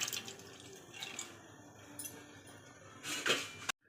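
Water splashes and trickles into a metal pot of sambar, about a litre added, with faint clinks and a louder gush near the end before it stops.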